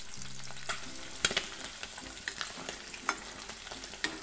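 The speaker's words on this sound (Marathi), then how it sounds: "तेल तापलेलं आहे, आता आपण एक एक कोळंबी तेलामध्ये सोडून घेऊया." Prawns fry in hot oil in a pan, cooked in batches, giving a steady, close sizzle broken by sharp crackles and pops at irregular intervals, with no voices.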